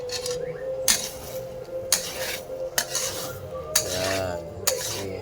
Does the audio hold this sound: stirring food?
yes